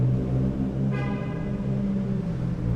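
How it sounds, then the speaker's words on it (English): A deep, loud Stage 3 Subaru STI engine rumbles steadily nearby, idling with a low throaty drone throughout. "I'm a little upset as to how loud Nate's car is"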